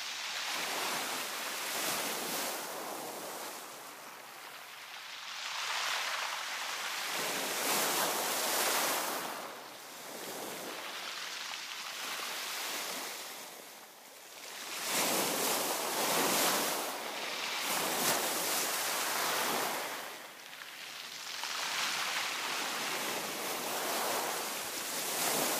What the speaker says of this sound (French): Notre balade en bord de côte est cependant fort agréable, malgré le vent qui nous gifle le visage.